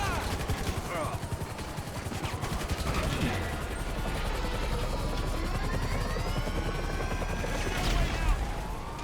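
A helicopter's rapid rotor chop drones steadily throughout in the video game Grand Theft Auto V, overlaid with bursts of rapid gunfire and a faint high buzz.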